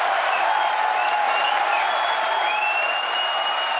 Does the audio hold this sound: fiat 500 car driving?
no